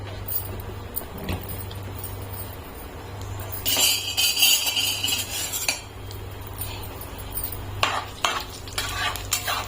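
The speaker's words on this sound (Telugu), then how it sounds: "ఆయిల్ వేడెక్కిన తర్వాత తాలింపు గింజలు వేయాలి" Oil sizzles steadily with a crackling hiss as seeds are tossed in, while a metal utensil scrapes and clinks against the pan now and then.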